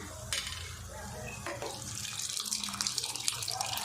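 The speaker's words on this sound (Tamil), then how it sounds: "இப்போ இது கூட நம்ம வேக வச்சிருக்கிற பருப்பில் தண்ணியோடு அப்படியே சேர்த்துருங்க" Cooked lentils and their water are poured into a Chettinad-style radish sambar masala, giving a close, splashing liquid pour with a couple of sharp clinks, fairly quiet.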